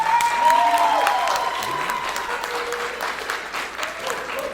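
A comedy club audience at a stand-up set applauds loudly, the sustained clapping fading a little over a few seconds with a voice briefly heard over it.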